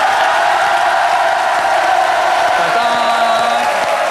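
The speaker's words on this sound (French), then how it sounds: "vous pouvez l'applaudir" A TV studio audience applauds and cheers in a steady, dense wash of clapping that runs the whole time, with a few whoops rising above it.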